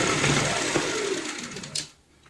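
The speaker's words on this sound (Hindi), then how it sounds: "स्टिचिंग में दोस्तों सबसे पहले हम जो हमारी सीधी लाइन है, ये वाली दोनों लाइन कंप्लीट करते हैं ऐसे" A sewing machine runs in a fast continuous whir while stitching straight lines on a round cushion cover, then slows and stops near the end, leaving a quiet tail.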